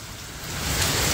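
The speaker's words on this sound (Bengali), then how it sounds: "কি বৃষ্টি হচ্ছে!" Heavy rain pours down outside a house, a dense, steady roar of falling water that swells slightly louder partway through, with no voices.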